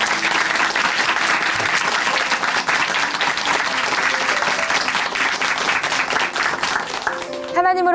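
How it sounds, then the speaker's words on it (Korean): The congregation of Chuncheon Hanmaum Church applauds in a church, a dense, steady roar of many hands lasting throughout, moderately loud, with a voice rising faintly near the end. "다시 한번 귀한 사연 들려주신 우리 박순정 자매님께 다시 한번 박수 부탁드리겠습니다"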